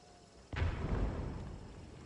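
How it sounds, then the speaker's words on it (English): An explosion goes off in the video game Hunt: Showdown, a sudden low boom that rises abruptly and then rumbles on as a long, heavy, fading roar, heard alone and moderately loud. "Explosion just went off in there."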